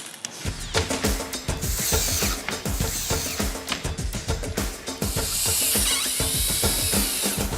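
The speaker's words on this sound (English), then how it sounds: "using 2 screws per stud, screw that baby in" A power drill drives screws into 2x4 stud supports, with rapid ratcheting clatter and whirring bursts in close, loud, repeated runs and no voices.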